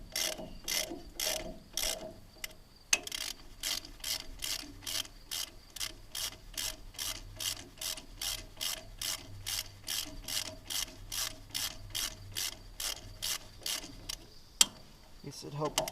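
Hand ratchet tightening a bolt on a Case VAC tractor, dozens of rapid evenly spaced clicks in steady strokes, close and crisp, with a brief pause and a knock partway through.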